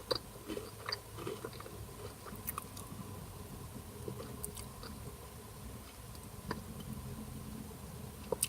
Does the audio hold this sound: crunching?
yes